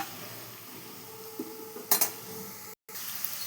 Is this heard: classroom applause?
no